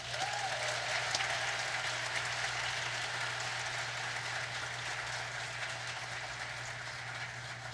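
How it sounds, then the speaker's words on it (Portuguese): An audience applauds Roberto Carlos at a Projeto Fim de Tarde show with Eduardo Lages and Joanna, a dense, steady wash of clapping that holds throughout over a constant low hum. "Uma salva de palmas para o Roberto Carlos."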